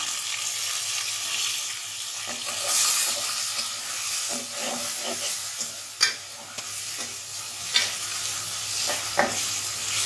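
Shrimp fry in oil with bay leaves in a small kitchen pan, giving a steady moderate sizzle while a spatula stirs and scrapes, with occasional sharper clinks.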